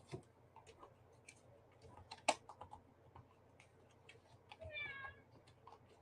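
A pet cat gives one short, faint meow indoors, set among soft keyboard clicks and ticking in a quiet room.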